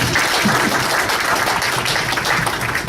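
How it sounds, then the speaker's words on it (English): Audience applause at a Mass Innovation Nights panel event, dense and steady clapping from a sizable crowd filling the room for the whole stretch. "Yes, you can applaud."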